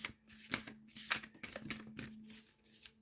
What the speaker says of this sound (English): I'm going to shuffle, see if I can get 1 or 2 more cards.